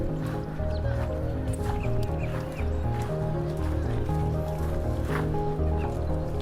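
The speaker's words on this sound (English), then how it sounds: "Lots of ducks." Ducks quack and call at a water sanctuary in Florida, with overlapping bird calls over a steady low hum, some near and some farther off.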